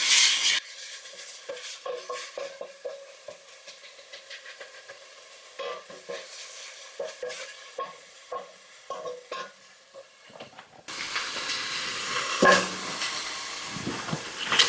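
Garlic cooking in a pan seasoned with salt and pepper, with soft stirring scrapes and taps over a quiet sizzle, then a louder, brighter hiss in the last few seconds; no talking.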